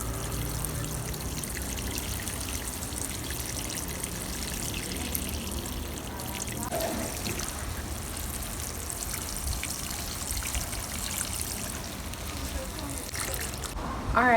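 Water pours and trickles steadily as plants in a small food-forest garden are given a soak, a continuous soft splashing stream that runs for the whole stretch.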